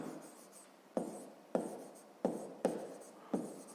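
Numbers being handwritten for a sixth-grade maths exercise: soft pen-on-paper scratching comes in six short strokes at roughly even intervals, close and quiet, with no voices.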